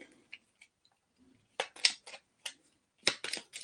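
Crisp bursts of cards riffling and snapping together, a few short shuffles separated by quiet pauses, close by.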